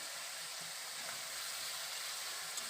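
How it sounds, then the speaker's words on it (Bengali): Spice masala with chopped tomato fries in a hot pan for a rural-style vegetarian pointed gourd dish, giving a faint, steady sizzling hiss with a few soft scrapes of stirring and no voices. "এবার আমি ভালো করে এই মশলাটাকে কষিয়ে নেব তো এর মধ্যে এবার দিয়ে দেব কেটে রাখা টমেটো"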